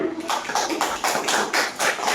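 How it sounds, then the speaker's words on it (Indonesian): Primary school pupils in a classroom clap together in a quick, regular rhythm of evenly spaced bursts, fairly close and loud, with no talking over it. "Kelompok 1 betul. Tepuk tangan."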